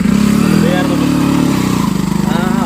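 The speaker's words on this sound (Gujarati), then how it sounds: "મોટરસાયકલ ગંજવી નાખે છે" A motorcycle engine roars and strains loudly at close range on a steep climb up to Nahargarh Fort at night, its rumble steady then pulsing, with a voice talking over it.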